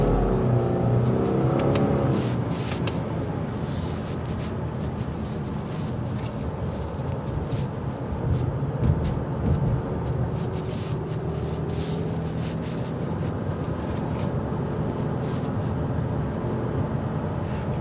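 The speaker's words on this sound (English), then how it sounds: "Now to show you the 260 horsepower and how much fun you can have with this Linear-tronic CVT and the sport suspension." A 2024 Subaru Legacy Sport with a 260-horsepower turbo engine and a Linear-tronic CVT accelerates. A steady engine drone and road rumble are heard from inside the cabin, with a rising tone in the opening seconds.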